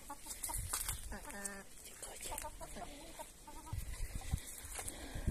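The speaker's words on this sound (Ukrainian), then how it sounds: "Півник." Laying hens cluck and a rooster calls nearby, short stuttering notes in a busy, slightly noisy village farmyard in spring.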